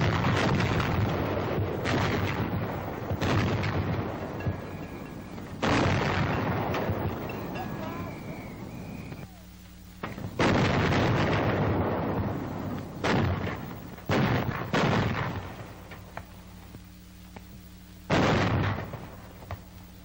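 Coast artillery guns of a four-gun battery firing in 1942, a series of heavy booms spaced several seconds apart, each decaying with rumble, under narration.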